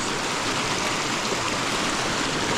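River water rushes in a steady, dense hiss, loud and unbroken throughout with no voices.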